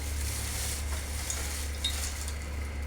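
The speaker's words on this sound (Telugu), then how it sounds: "ఇప్పుడు ఇదే కడాయిలో పోపు అనేది వేసుకుంటాను." Tempering of chana dal, mustard seeds and cumin sizzling in hot oil in a kadai for punugulu, a steady soft crackle with faint stirring clinks and a low background hum throughout.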